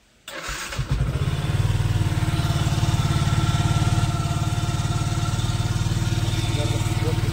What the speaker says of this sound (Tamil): கைஸ் ஃபஸ்ட்டு நம்ம பைக்கை ஸ்டார்ட் பண்ணி